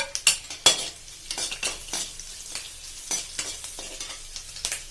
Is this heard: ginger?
yes